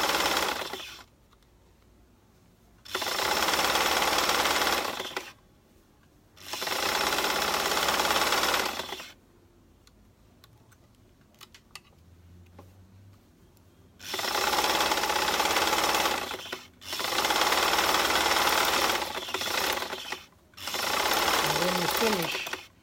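Sewing machine stitching the bottom hem of a maxi skirt, running in several loud, steady bursts of a few seconds each, separated by quiet pauses with faint background sounds.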